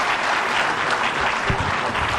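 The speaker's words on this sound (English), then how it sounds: "Another round of applause for the Chief Justice." Ladies and gentlemen applaud the Chief Justice at the Uganda Law Society's launch event with the International Bar Association. A brief burst of full, continuous clapping fills the hall, loud and close, with no voices over it.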